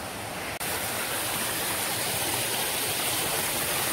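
A river in the Tai Shue Hang countryside of Hong Kong's New Territories rushes loudly and steadily close by, a dense, unbroken watery hiss after a momentary dropout near the start.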